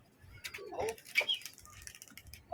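Pigeons coo softly at close range, with a few brief low calls and faint rustling in a quiet space.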